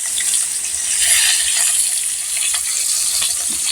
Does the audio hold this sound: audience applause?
no